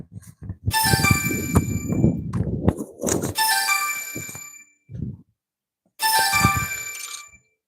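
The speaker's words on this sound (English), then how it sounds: "And there goes the cell phone again." A cell phone rings out loud and close in repeated bursts of a bright chiming ringtone, broken by short gaps and a brief low thump, with no talking.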